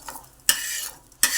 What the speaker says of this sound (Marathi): भाजण्यासाठी. भाजून घ्यायचं